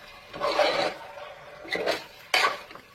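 A utensil scrapes and clatters against a pan while chilli chicken is stirred, three short scraping bursts separated by quieter pauses, close and moderately soft.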